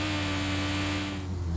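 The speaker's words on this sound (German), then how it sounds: "Der Wagen ist scheiße laut" A loud, steady mechanical rumble with a constant low hum and broadband rattling noise, like a heavy cart rolling continuously close by, from the video game Game Store Simulator.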